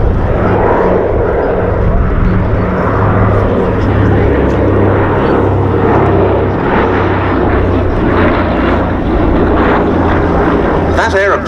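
A Catalina flying boat, a propeller aircraft, drones steadily overhead at the Duxford air show, its loud engine hum continuous throughout beneath an announcer's commentary over the public address.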